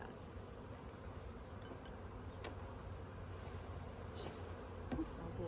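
Honey bees buzz around an opened hive as it is consolidated into a single deep box before winter, a faint, continuous insect hum with occasional louder passes of single bees near the listener.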